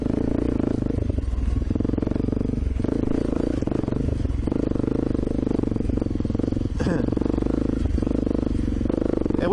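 A KTM dual sport motorcycle creeps slowly over rocky ledges at One Tree Hill, its steady low engine drone running throughout with clattering and scraping from tyres and rock, and talk over the top.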